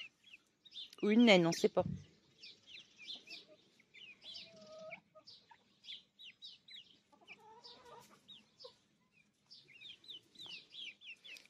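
Young Brahma-cross laying hen chicks, about a month old, give soft repeated clucks and cheeps throughout, near and fairly quiet, while a person speaks loudly at the start and others talk in the background.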